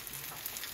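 Onions frying in a pan, a faint, steady hiss of sizzling oil heard close up for under a second, with no talking.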